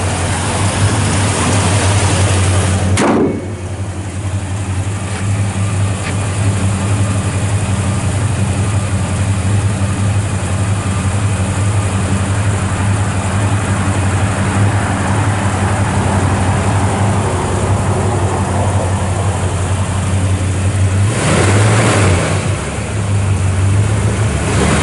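A 1972 Chevrolet C10 Custom Deluxe Shortbox with dual exhaust and stock mufflers idles steadily with a low, even rumble, while brief rises in engine speed break in near the start and again near the end, and no voices are heard.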